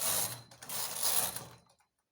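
A knitting machine carriage pushed across the needle bed to knit a stitch row, a close mechanical clattering whir lasting about a second and a half before stopping.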